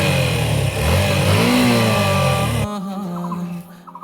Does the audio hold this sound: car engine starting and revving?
yes